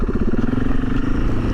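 A sport bike on slick tires rides with two adventure motorcycles through the Hoh rainforest's Hall of Mosses, giving a loud, close, continuous engine drone with a steady pulsing tone and no talking.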